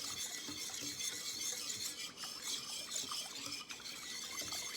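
A spoon stirs yeast and sugar in a bowl while making homemade hamburger buns, giving a soft, steady scraping with faint clinks against the bowl, quiet and close, with no talking.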